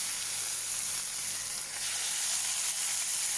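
Venison flat iron steaks sizzle loudly and steadily in a hot, dry pan, a continuous close hiss with no talking.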